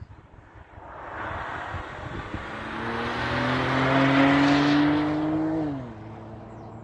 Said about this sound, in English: Audi TT, man, it's flying.